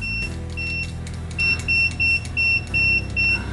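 Kaiweets KM312B multimeter continuity test, giving a series of short, shrill electronic beeps in an irregular rhythm over a low steady hum.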